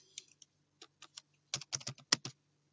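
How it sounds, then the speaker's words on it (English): Typing on a computer keyboard while writing a Java program, with irregular bursts of close, crisp key clicks, sparse at first and then quicker clusters, alone without speech. "you need to type scanner."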